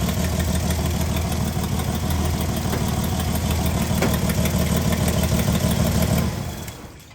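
An engine runs at a steady, loud idle while a water pump is being checked for overheating, then it is switched off and the rumble drops away and fades to quiet.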